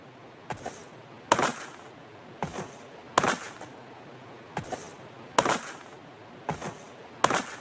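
Repeated paired thuds and clacks of a player jumping and landing in PUBG Mobile, coming at a regular pace about once a second, crisp and close with quiet gaps between.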